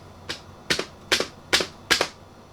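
Keys struck on a computer keyboard attached to a Commodore C64 setup with a faulty keyboard, five sharp clicks close by in an uneven rhythm, each with a quick double tap, over a faint hum.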